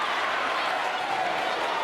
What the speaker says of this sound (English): it's noise in here, Cliff. We can't hardly hear ourselves think.